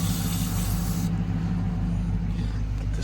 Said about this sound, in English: I'm trying to make sure I'm not spraying it where I'm not supposed to be.